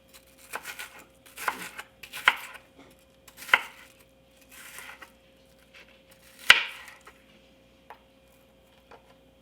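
A knife chops an onion steadily on a cutting board, crisp irregular taps spaced a second or so apart, close up with a faint hum behind.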